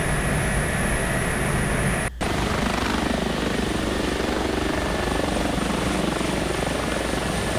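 An Airbus H145 helicopter in X-Plane 11 drones steadily with a dense, even rotor and engine whir, loud and continuous, with a brief gap in the sound near the start.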